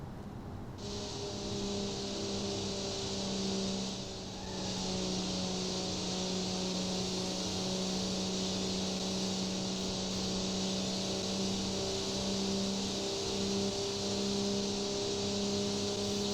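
Steady engine drone from a Crown Model 21 car cruising near 200 km/h in the BeamNG driving game, a constant loud tone with a brief dip around four seconds, no talk over it.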